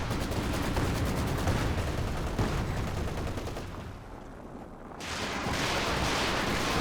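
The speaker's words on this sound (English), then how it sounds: "Shelling this general area." Heavy artillery shelling in the real-time strategy game Company of Heroes 2 during a 2v2 match: dense, continuous barrages of booming blasts and crackling gunfire, briefly thinning before a fresh loud salvo resumes.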